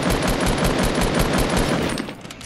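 Rapid automatic gunfire in a video game: a loud, close, continuous stream of evenly spaced shots in a fast rhythm, cutting off near the end with a quieter tail.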